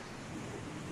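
Ocean surf washes steadily onto a beach, a continuous broad roar of breaking waves with some wind noise, loud and close with no talking.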